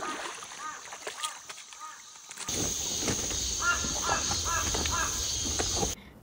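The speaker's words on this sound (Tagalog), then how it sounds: "Sobrang nag-iingay din nga talaga dito yung uwak" Crows caw repeatedly near water outdoors, harsh calls recurring in loose bursts, some nearer and some farther, over a steady background hiss and faint splashing.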